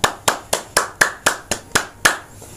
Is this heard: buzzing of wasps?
no